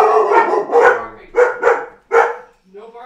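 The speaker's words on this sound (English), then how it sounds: "barking" A dog barks close by in a quick series of sharp barks, about five or six in bursts, with a short gap before a softer final yip.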